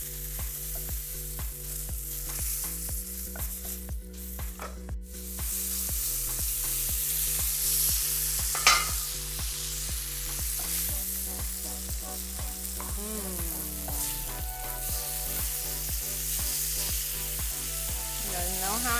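Salmon frying in a pan, with a continuous sizzle and crackle throughout under background music.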